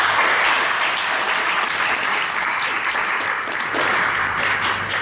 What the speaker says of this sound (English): please, in a big round of applause,